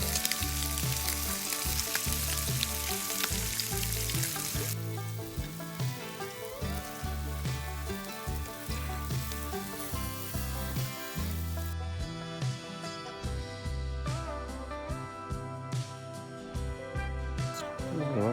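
Bacon sizzles and spits in a pan over a camping stove, a dense continuous crackle with occasional louder pops, close and steady throughout.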